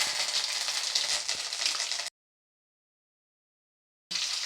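Mustard seeds, chana dal and curry leaves frying in hot oil, a close, bright sizzle with crackling pops that breaks off into silence for two seconds, then resumes just as strongly.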